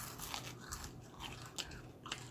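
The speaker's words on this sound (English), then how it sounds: "Hear that crunch?" A bite into crispy Kentucky baked tofu gives a close, quiet series of crunches, with several sharp crackly bursts spread across a couple of seconds.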